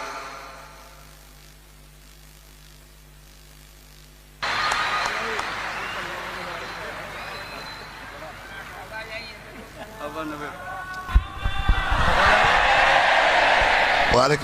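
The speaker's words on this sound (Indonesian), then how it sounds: "Tepuk tangan sekali lagi buat beliau, Kiai Anwar Zahid." Audience applause and crowd noise for Kiai Anwar Zahid at a religious gathering with a preacher at UNISULA, a dense, sustained clapping swell under voices that grows louder toward the end.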